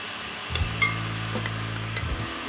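An electric mixer on a low setting whirs steadily as it blends sifted flour into cranberry and white chocolate muffin batter, a constant motor hum with light knocks of the beaters against the bowl and no talking.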